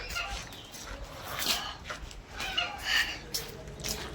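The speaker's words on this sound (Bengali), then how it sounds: "রাজহাঁসটা কিরকম ডাকছে রে" A goose gives loud, ragged honking calls in short bursts, near and repeated, mixed with people talking around it.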